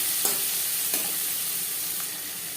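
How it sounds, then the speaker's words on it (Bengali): Onion and garlic fry with bay leaf in a pan for a katla fish curry with gathi kochu, a soft steady sizzle broken by a couple of stirring scrapes, close and fairly quiet with no talking. "তেজপাতা ভেজে নেওয়ার পর দিয়ে দেবো পেঁয়াজ রসুন"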